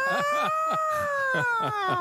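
An ambulance siren wails with steady, slowly falling tones throughout, loud and close, with choppy voice-like bursts beneath it.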